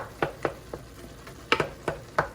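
Chili meat with green peppers and onions simmering in a pot, heard as a series of soft, scattered pops and crackles at an uneven pace, fairly close, with no voices.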